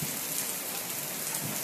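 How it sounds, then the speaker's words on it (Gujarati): Heavy rain pours down in Rajkot, Gujarat, a dense, steady hiss of drops striking surfaces, loud and continuous from start to finish with no voices. "જોરદાર વરસાદ."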